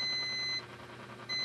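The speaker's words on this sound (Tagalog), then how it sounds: "So, pag nag-buzzer siya, shorted." A multimeter continuity buzzer tests a shorted Acer E5-411 laptop board: a steady high beep, a brief gap as the probes lift, then the tone returns.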